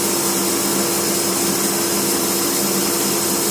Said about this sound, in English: Start the bandsaw.